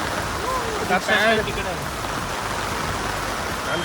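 Heavy rain pours steadily during a red alert, a dense, even hiss of drops on surfaces close by throughout, with a brief louder patch of movement near the start.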